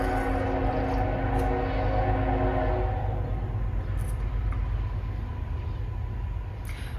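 A train rumbles past outside with a steady, loud low-frequency roar, a few faint higher squeals or whistle tones rising briefly above the continuous rolling noise.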